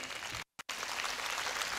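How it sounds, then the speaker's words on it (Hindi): Audience applause welcoming three guests onto a stage, a dense steady patter of clapping that cuts out briefly near the middle, then resumes at full strength. "आप तीनों को मैं मंच पर बुलाना चाहूँगा एक सेकंड के लिए। तालियों के स्वागत करें"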